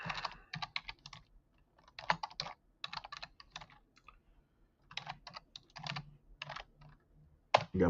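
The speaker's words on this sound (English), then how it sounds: "I'm a slow typer. Just give me a second." Slow, uneven typing on a computer keyboard set sideways, bursts of close, crisp key clicks separated by short pauses, with no voices.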